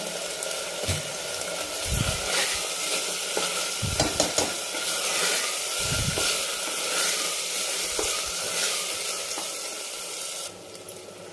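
Liver or mutton pieces sautéing in ghee in a pan, a steady close sizzle with repeated scraping stirs of a spoon against the metal, no voices.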